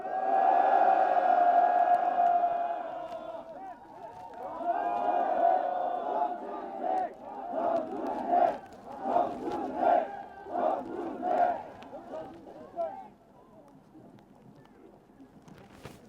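Party members at a political reform rally shout and cheer loudly, a sustained roar that surges in rhythmic bursts as if chanting, then fades to a lower murmur near the end.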